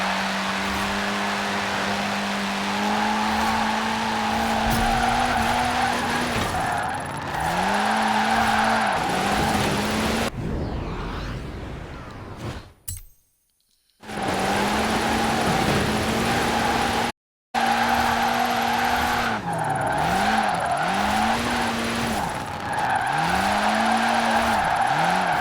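A Citroen DS23 drifting in Forza Horizon 4, its tires squealing in long, wavering screeches over a steady engine drone, with a few brief breaks where the sound cuts out.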